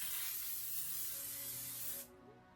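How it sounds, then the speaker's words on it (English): Makeup setting spray misted onto a face at close range in one continuous, loud, airy hiss lasting about two seconds, then cutting off abruptly into quiet room tone. "So I'm just going to spray this."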